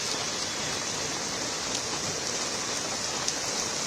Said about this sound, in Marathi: हा पाऊस असा सुरू राहिला